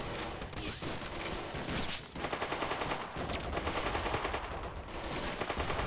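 MP40 submachine gun fire in a World War II siege battle game, with rapid automatic bursts and overlapping gunfire continuing dense and steady throughout, moderately loud with no talk.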